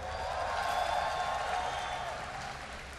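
A BlizzCon 2011 crowd at a StarCraft match cheering and applauding, a dense roar of clapping and voices that swells and then slowly fades over a few seconds.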